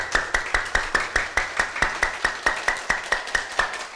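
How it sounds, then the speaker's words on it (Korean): Hands clap with palms and fingers aligned, about sixteen sharp, evenly spaced claps in a steady rhythm, close and loud. "이 손바닥을 이렇게 딱 이렇게 마주치면서 쳐보세요."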